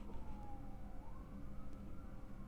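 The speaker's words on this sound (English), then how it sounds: "You hear those sirens?" Emergency vehicle sirens wail outside, faint and distant with a slowly sliding pitch, heard over low indoor rumble.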